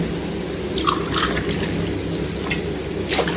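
Water is poured from a tumbler into a pot of ragi and samba wheat semolina kichadi, a steady close splashing and trickling that runs alone for a few seconds without speech.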